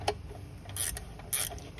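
Ratchet clicks from a 14mm socket loosening the headlight bolts on a Honda Nighthawk motorcycle, with two short bursts of close, bright ratcheting and faint mechanical handling between them.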